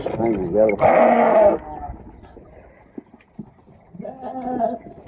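Several bleats from lambs on a farm in Bulgaria, close and loud at the start, then quieter rustling before another bleat rises near the end.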